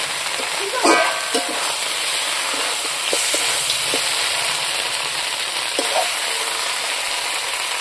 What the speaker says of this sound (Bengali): এখন আমি আর 1 মিনিট ভাজি দেবো।